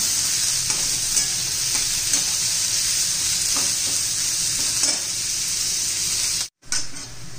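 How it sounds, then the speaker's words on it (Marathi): Finely chopped onion sautés in a pan for an egg masala, with a steady loud sizzle and scraping stir strokes throughout. The sound briefly cuts out near the end. "बारीक चिरायचा कांदा एकदम. चांगलं परतून घ्यायचं."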